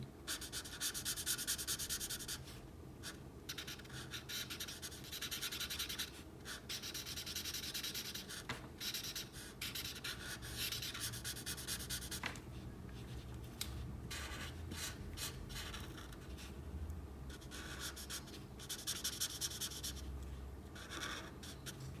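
Grey marker scrubs continuously on paper while colouring a drawing of a Fortnite skin, with close, steady back-and-forth rubbing strokes broken by brief pauses and soft taps, and no voices.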